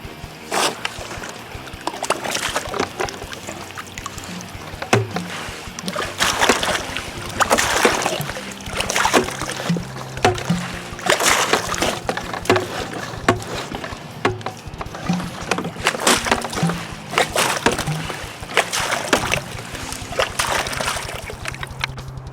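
Water pumps through a spring-loaded check valve in repeated sloshing, splashing bursts with irregular rhythm, close and moderately loud, with no talking.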